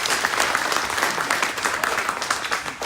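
An audience at a voting rights talk claps in a brief, dense burst that stays steady and fairly loud for a few seconds before starting to thin out.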